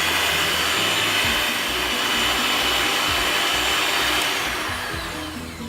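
Electric hand mixer beating oil and sugar for a carrot cake batter, a loud steady motor whir running nearly six seconds before easing off slightly at the end.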